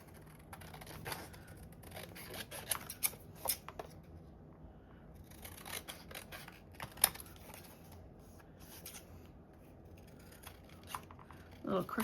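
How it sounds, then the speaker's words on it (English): Scissors trimming clear packing tape for faux stained glass ephemera: scattered quiet snips and crinkles, close but faint, with pauses between cuts. "All right, so I'm gonna trim it."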